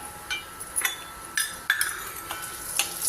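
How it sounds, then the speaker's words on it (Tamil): Urad dal and peppercorns roast in a pan for capsicum chutney, giving a soft dry sizzle with a few scattered stirring scrapes and light clinks, close and quiet with no talk. "உளுத்தம்பருப்பு அந்த அளவுக்கு வறுத்துக்கலாம்."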